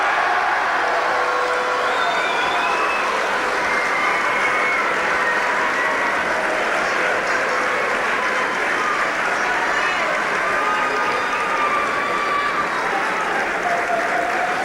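A massive crowd at a Tullamore versus Gracefield Gaelic football match applauds and cheers steadily, a dense wall of clapping and roaring throughout, with flags waving and faint whistles and shouts rising within it.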